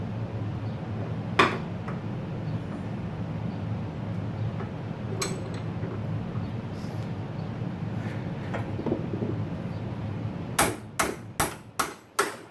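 A hammer strikes the top of an old spindle with a nut screwed on to knock out its bearing: a few isolated metallic clanks early on, then five sharp ringing blows in quick succession at the end, over faint background hum.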